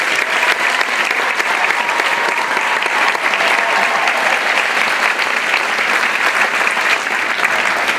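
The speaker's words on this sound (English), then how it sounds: "we should really give him a round of applause" Audience applause at a high school and middle school winter band concert, a steady dense wash of clapping from a large crowd that holds at full strength for the whole stretch with no voices rising above it.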